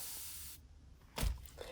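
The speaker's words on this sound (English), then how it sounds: "This is a mister bottle and it's better than just a regular spray bottle because instead of just squirting at it, it softly mists your piece" A mister bottle sends a soft burst of water spray onto painted furniture: one short, faint hiss near the end after a quiet stretch, with no voices.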